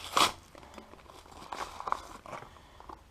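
Packaging on a small box is torn and crinkled open during an unboxing. A sharp rip comes first, then quieter scattered crackles and rustles, faint and close, with no talk.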